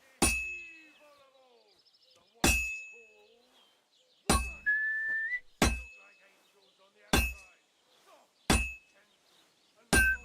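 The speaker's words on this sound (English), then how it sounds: "Now take the hammer and try hitting it a few times." A blacksmith's hammer strikes metal at a forge in the medieval game Kingdom Come: Deliverance 2, with seven sharp ringing clangs spaced about two seconds apart, each decaying quickly in a quiet room.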